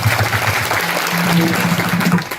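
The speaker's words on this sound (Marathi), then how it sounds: "जोरात टाळी वाजवा." A kirtan audience claps loudly and continuously, a dense wash of applause from start to finish with a faint tonal hum running underneath.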